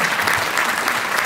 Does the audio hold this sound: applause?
yes